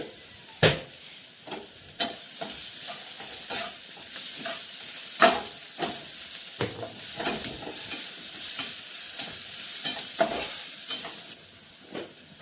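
Spices and turmeric frying in a pan and being stirred, a continuous loud sizzle broken by sharp scrapes and knocks of the stirring utensil at irregular intervals, with no talking.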